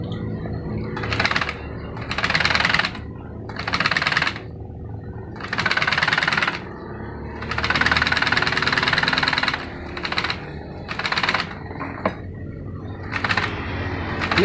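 An electric sewing machine stitches a motorcycle seat cover in loud, close bursts of rapid whirring and chattering. Each burst lasts a second or two, separated by brief pauses, over a steady low hum.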